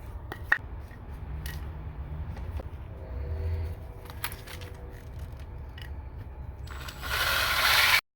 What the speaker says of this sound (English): what I'm going to do is I'm going to screw the block in